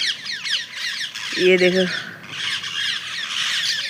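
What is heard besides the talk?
parrots squawking on the roof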